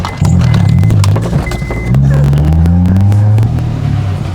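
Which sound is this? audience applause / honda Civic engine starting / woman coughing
honda Civic engine starting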